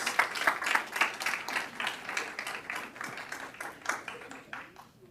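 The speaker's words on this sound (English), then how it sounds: "Let's give him a round of applause" Scattered clapping breaks out in a school district board meeting room after a young student finishes the pledge, uneven claps that gradually thin and fade toward the end.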